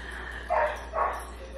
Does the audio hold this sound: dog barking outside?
yes